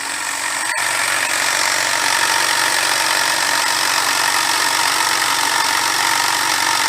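A DC shunt motor running under load during a brake test in a lab, giving a steady, continuous electrical whine and hum with no pauses and no voices, apart from one brief click early on.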